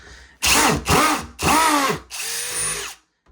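A power drill removing screws, whirring in three short bursts and then one longer run, loud and close, with brief pauses between.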